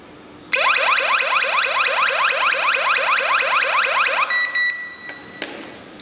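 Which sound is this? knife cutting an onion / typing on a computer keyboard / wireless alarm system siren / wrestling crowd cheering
wireless alarm system siren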